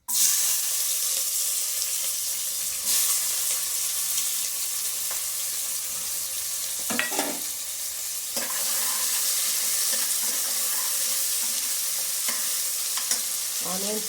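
Onions sizzle loudly in hot oil for a chicken gravy, a continuous close frying hiss with occasional scraping stirs and clinks from a utensil against the pan.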